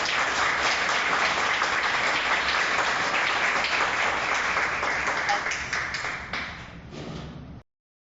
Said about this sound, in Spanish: Recibamos por favor con un fuerte aplauso a nuestra invitada especial.